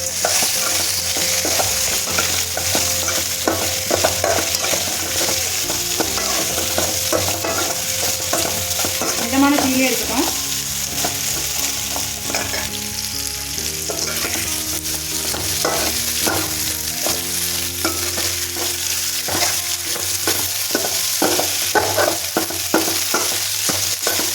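Potatoes stir-fry in plenty of oil, sizzling steadily and loudly throughout while a utensil scrapes and clatters against the pan in a quick, irregular rhythm, with no talking.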